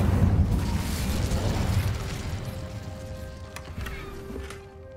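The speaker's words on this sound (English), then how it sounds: "Incendio." Casting the Incendio fire spell in Hogwarts Legacy produces a booming burst of flame that fades over a few seconds. A few faint clinks and chimes sound near the end.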